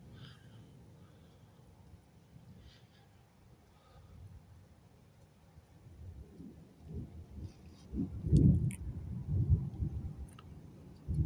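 A strong night thunderstorm brings thunder that builds into loud, close rumbles in the second half, with rain and faint background sound underneath.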